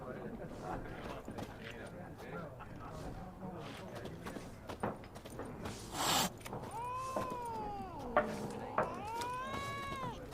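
A cat in The Witcher video game gives several drawn-out meows toward the end, mixed with game ambience, footsteps and clopping, while people talk.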